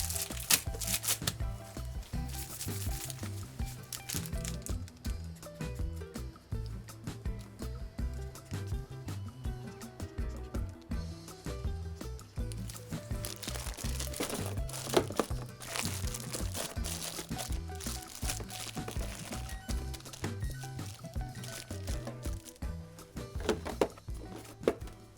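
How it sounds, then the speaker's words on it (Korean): Cuttlefish are portioned into a zipper bag for freezing, giving continuous crinkling plastic and soft wet handling sounds close by, busy and uneven throughout with no speech. "한 번 먹을 양을 지퍼백에 담아서 냉동시켜요."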